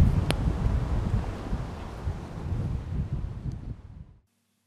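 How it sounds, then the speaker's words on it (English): Strong wind buffets a microphone outdoors near a bridge with a steady low roar and gusty rumbling, then cuts off abruptly. "the wind's getting, is picking right up now"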